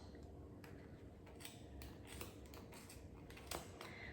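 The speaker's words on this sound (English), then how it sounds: "You need some nice sharp scissors for this" Sharp scissors snip around a curved paper semicircle in a run of quiet, irregular, close-up cuts, with steady low room noise underneath.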